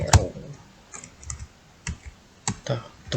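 Scattered keystrokes tap on a computer keyboard in short irregular clusters, crisp close clicks with a louder press at the start and quiet pauses between.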